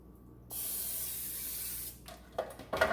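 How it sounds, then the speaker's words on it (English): Cooking spray hisses into a baking pan for bread pudding in one steady, close burst of about a second and a half, followed by a few light handling knocks. "I'm actually going to spray the pan"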